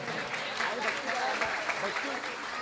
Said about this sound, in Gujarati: એકવાર જોરદાર તાળીથી વધાવો